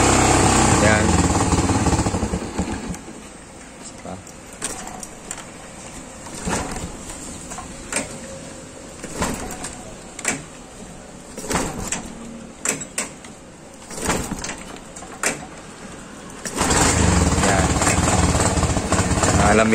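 A Yamaha STX 125 motorcycle engine runs after a kickstart, loud and steady at the start and again toward the end, with clicks and knocks from work on the bike over the middle stretch.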